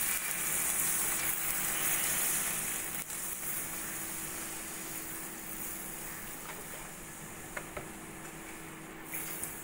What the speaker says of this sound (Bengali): এবার দিয়ে দেবো আমি দুধ।